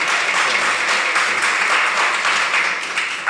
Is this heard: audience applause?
yes